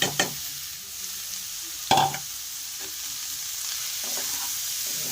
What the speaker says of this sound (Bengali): এবার আমি ঘষা বিট গাজরগুলো দিয়ে দেবো সব